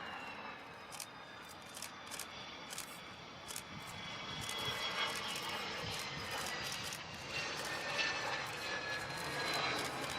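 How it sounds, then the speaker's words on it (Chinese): A Boeing 727 jet airliner comes in to land without reverse thrust, its broadband engine roar steady at first and then swelling louder over the last half, with no voices. "这是一辆波音727客机"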